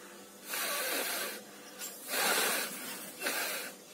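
Breath blown in several soft bursts through a Korean-style face mask toward a lighter flame, airy hissing puffs separated by short pauses, close and moderately loud with no talking.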